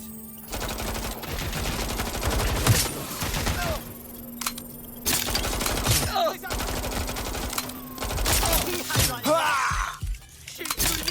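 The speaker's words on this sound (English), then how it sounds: "I'm getting shot at here!" Bursts of automatic gunfire and shattering impacts in the video game Watch Dogs Legion, loud rapid volleys with brief gaps between them, cracking and rattling close by.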